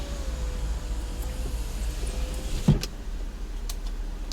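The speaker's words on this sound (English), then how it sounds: "I need to raise these windows up" Car power windows being raised on a sunny day in Abuja, a faint motor whine under steady road and engine rumble from a vehicle, with a brief thump as the glass seats.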